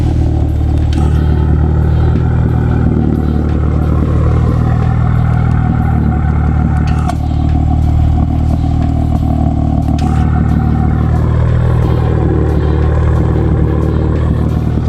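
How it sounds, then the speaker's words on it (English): A BMW F82 M4 with a valvetronic exhaust idles close by, a steady, loud, deep rumble with a slight clatter that holds unbroken for about fifteen seconds, no talking. "sounds like a pretty mild exhaust"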